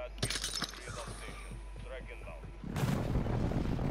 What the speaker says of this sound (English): I've done the airstrike.